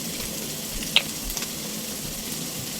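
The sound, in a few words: meat sautéing in a pan for papaitan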